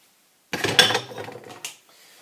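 An egg cracked against a cup in a kitchen, a sharp tap followed by a brief rustle and a light clatter of shell, close and alone with no talking.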